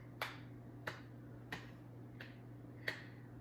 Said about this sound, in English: We're gonna start by clapping.